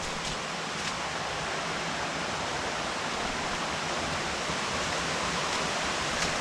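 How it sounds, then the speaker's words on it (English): Granny Burrell Falls in Panthertown Valley roaring along a forest trail, a continuous broad rush of falling and flowing water, steady and fairly close with no voices. "just follow the trail and sounds of the water until you reach Granny Burrell Falls"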